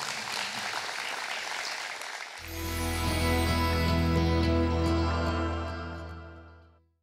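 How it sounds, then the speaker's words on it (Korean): Audience applause for Professor Oh Joo-hwan at a welfare and healthcare policy talk event: a few seconds of crowd clapping, then cut off as sustained tonal music swells in and fades out. "좋은 말씀 해주신 오주환 교수님께 다시 한번 큰 박수 부탁드리겠습니다"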